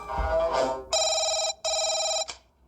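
An electronic telephone ringing in two long trilling bursts with a short gap between them, clear and fairly close, after a brief murmur of voice.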